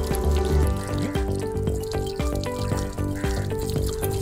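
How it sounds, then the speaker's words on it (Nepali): Running tap water splashes over hands being rinsed after scrubbing during handwashing, a close, continuous gush with uneven spatter and small knocks as the hands move under the stream. "यो मिचिसकेपछि आएर पानीले राम्रोसँग यो पखाल्ने"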